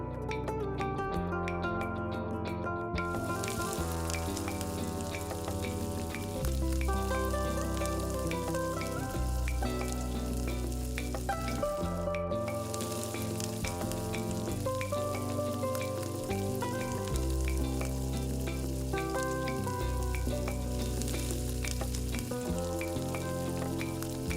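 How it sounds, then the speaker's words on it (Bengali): Paneer pieces frying in hot white oil, a dense steady sizzle with crackling pops that runs unbroken throughout, no voices. "এবার এর মধ্যে সাদা তেল দিয়ে পনিরটাকে আগে ভেজে নেব"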